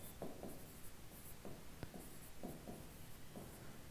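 A pen scratches notes onto paper during a biology lesson, in short repeated strokes with brief pauses between them, close and quiet, with no talking.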